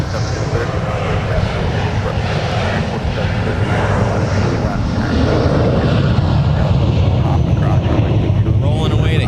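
A United Embraer jet at MSP airport sends a loud, continuous roar of jet engines under wind noise, with people talking faintly over it.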